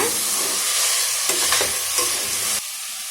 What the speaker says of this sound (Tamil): கேரட், பீன்ஸ், பட்டாணி எல்லாம் ஆட் பண்ணிடலாம். இதை ஆட் பண்ணி நல்லா கலந்து விட்டுக்கோங்க.